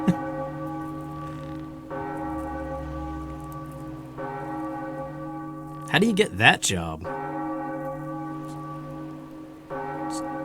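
Church bell in The Legend of Zelda: Wind Waker HD, struck repeatedly at a steady interval, each toll ringing out with long overtones over steady rain, while a voice talks briefly in the middle.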